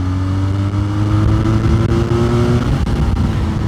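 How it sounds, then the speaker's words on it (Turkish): Benelli 502C motorcycle engine pulling hard at speed, a steady loud drone with rising engine tones throughout, close to the rider and heard alone. "Zaten istediğim zaman uzayabiliyorum motorla. Bakın 4000 ile gidiyorum."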